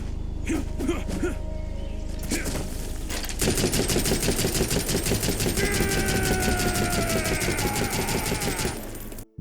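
Rapid automatic gunfire in the Metal Gear Solid Delta multiplayer video game, a dense continuous burst of shots with mechanical clatter and metallic ringing, loud and close.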